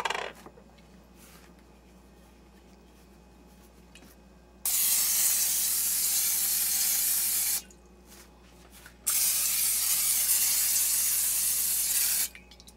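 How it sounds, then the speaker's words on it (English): Cooking spray hissing onto a pan while taco chicken is prepared, in two long, steady bursts of about three seconds each separated by a brief pause, close and fairly loud against a quiet kitchen. "I'm going to spray the pan."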